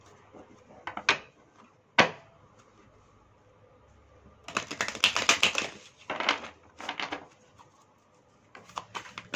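Tarot cards are shuffled by hand in short riffling bursts, crisp flapping clusters separated by brief pauses, close and fairly loud, with no talking.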